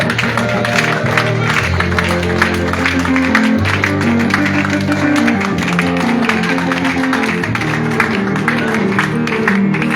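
A congregation applauds and acclaims the Lord at a prayer vigil in Agboville, with dense, steady clapping and crowd voices filling the room over music for the full stretch.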